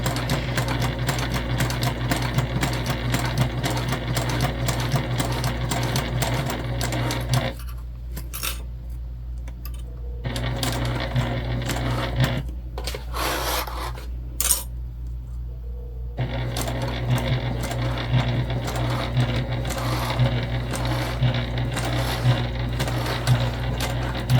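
A sewing machine stitches a crossbody bag, running loud and steady with a rapid mechanical clatter that pauses for several seconds midway before starting again.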